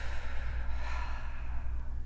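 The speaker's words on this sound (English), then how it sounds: "And breathe it out." One deep, breathy exhale during guided breathing, soft and close, lasting about two seconds with no speech.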